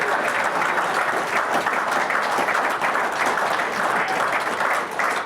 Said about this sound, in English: Keep the applause going, please, Kelsey.